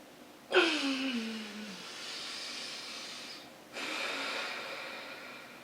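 A person seated in a chair takes a slow, deep morning breath, one long airy, nasal rush with a brief whistling edge that tapers off, then a second long, steady breath after a short pause, close and clear with no talking.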